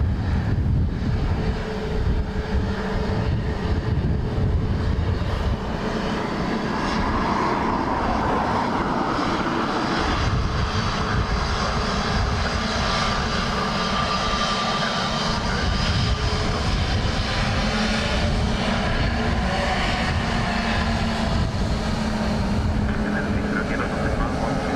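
Aircraft engines at Dublin Airport in crosswind conditions, a continuous broad roar from planes at a distance with wind buffeting the microphone throughout.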